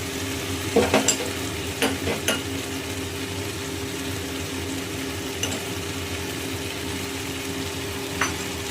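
Beaten sour curd goes into hot oil in a pan for a rohu fish curry, giving a soft steady sizzle with a few quick clinks and scrapes of a stirring utensil early on, then quieter frying.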